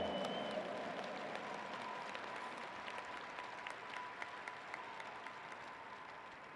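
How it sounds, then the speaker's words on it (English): An audience at a 2019 Hall of Fame awards ceremony claps steadily for an inductee, a dense, even wash of applause that fades slightly toward the end. "Please, let's have a round of applause"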